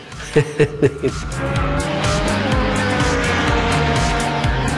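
A fan-equipped race car runs at high revs alongside other racing cars, engines droning loud and close, with tire squeal and a few sharp rhythmic bursts at the start.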